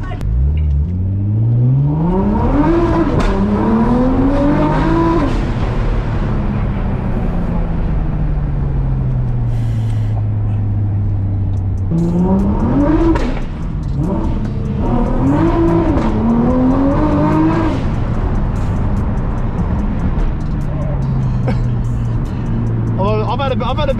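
An 800bhp Nissan GTR engine revs hard while driving, climbing repeatedly through gears with rising whines and roars, then settling to a steady drone between bursts. People talk over the loud, close engine noise throughout.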